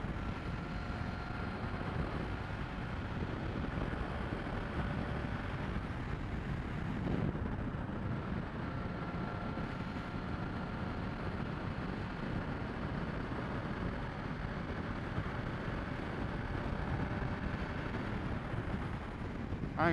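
Wind buffeting a rider on a Honda CBR1000RR sport bike cruising at about 70 mph, a loud, steady, broadband roar that fills the whole stretch with no break, engine drone buried beneath it.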